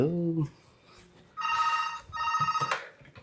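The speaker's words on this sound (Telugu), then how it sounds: "మనకి ఫోన్ మోగుతుంది" A voice speaks briefly, then a telephone rings in two bright electronic trilling bursts separated by a short pause, close and clear.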